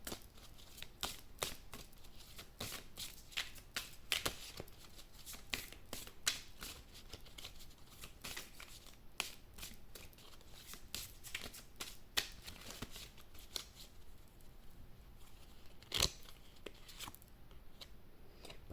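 Tarot cards are shuffled continuously for almost twenty seconds, a dense run of close, crisp riffling snaps and slides, heard alone without talk.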